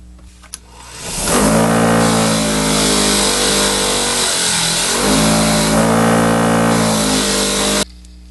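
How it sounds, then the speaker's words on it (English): A bench wire wheel spins up and runs steadily for several seconds, loud and continuous with a droning whine, as it cleans bent, heat-scaled metal ornament pieces, then cuts off abruptly. "So now we take them to the wire wheel and clean them up."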